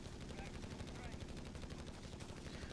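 Heavy machine gun fire from an HMG team in Company of Heroes 3, rapid evenly spaced rounds in a sustained rattling stream, with commentary faintly underneath.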